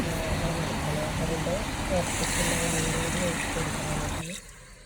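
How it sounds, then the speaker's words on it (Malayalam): Water pours into a cooking pot in a continuous rushing stream for about four seconds and then stops, with faint voices in the background. "വെള്ളം കൂടി ഒഴിച്ച് കൊടുക്കുകയാണ്"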